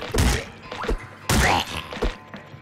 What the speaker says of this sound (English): it's whacked with the wrench